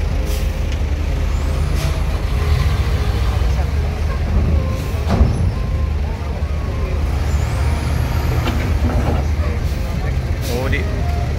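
Buses and other road traffic on a busy Indonesian holiday-homecoming highway, with a continuous heavy engine rumble, occasional sharp air-brake hisses and passing-vehicle swells, with people talking over it.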